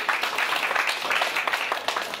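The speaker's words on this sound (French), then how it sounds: "Est-ce qu'on peut encore applaudir pour nous-mêmes?" Guests at a dinner debate on private funding in education give a brief round of applause, a dense, even patter of many hands clapping at moderate distance.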